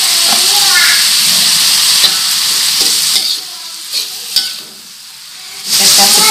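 Rice vermicelli noodles stir-fried in a hot wok with sweet soy sauce and sugar, giving a loud continuous sizzle and hiss with scraping stirs, briefly quieting before sizzling up again; a voice speaks faintly underneath.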